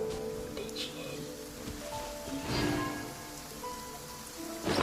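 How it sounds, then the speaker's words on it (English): Rain beginning to fall in the video game Genshin Impact, a soft continuous patter with occasional brighter splashes, fairly quiet and steady under a faint background bed. "it's starting to rain"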